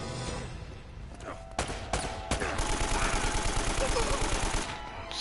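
Gunfire in Uncharted: Drake's Fortune: a few sharp single shots, then a rapid sustained automatic burst spraying bullets, loud and close.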